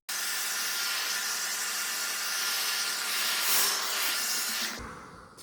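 A hair dryer with a diffuser attached blows in a steady, close, breathy roar while drying curly hair, then cuts off near the end, leaving quiet handling noise.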